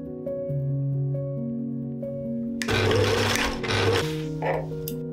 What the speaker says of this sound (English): I'll take my time with sewing the mock-up, making sure to match all seams.